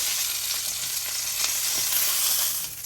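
Beef pot roast searing in a hot pan, a dense continuous sizzle with faint crackles, close and fairly loud, with no voices.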